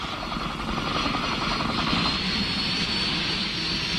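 A helicopter's rotor thumps in a steady, loud drone with a whining engine, holding close and constant throughout.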